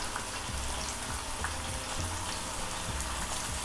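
Calamari with garlic sizzling in a pan, a steady crackling fry at moderate level with soft occasional knocks and scrapes.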